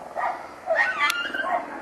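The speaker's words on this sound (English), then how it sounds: "Those are just some neighbor's dogs barking at something." Neighborhood dogs barking at something outdoors near a tree, a few short yips and barks in quick succession at moderate distance, with no talk over them.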